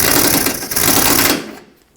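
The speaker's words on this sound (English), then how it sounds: "Snug this top bolt up." A bolt is snugged up on the front upper bumper bracket of a 1995–2004 Toyota Tacoma: a loud, close mechanical buzz runs for about a second and a half, then cuts off to near silence.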